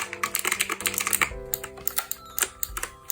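A mechanical keyboard is typed on in quick, irregular bursts of crisp clicky keystrokes, close and distinct, with a few deeper thumps of heavier keys mixed in.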